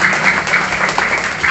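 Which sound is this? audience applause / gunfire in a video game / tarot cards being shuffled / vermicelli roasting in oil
audience applause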